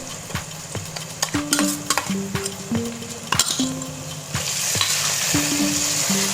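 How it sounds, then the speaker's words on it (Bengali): Onion, tomato and ginger-garlic paste sizzle steadily in a pan for chicken Chettinad curry, while a utensil stirs and clinks against the metal in irregular knocks. "পেঁয়াজ আর টমেটো আগে আমি ভালো করে ফ্রাই করে নিচ্ছি"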